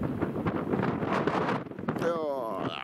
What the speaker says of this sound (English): Man, the wind.